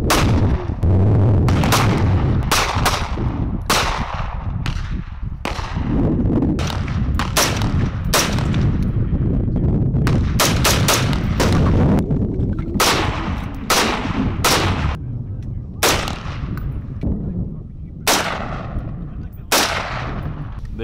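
Rifle fire from an AK-47 and an AR-15 at an outdoor range, a long run of sharp, loud shots in irregular bursts and single cracks, close by, with no talking.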